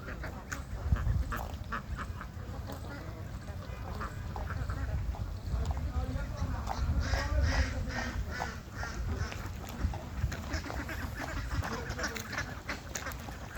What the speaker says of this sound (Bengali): দেখছো কত হাঁস।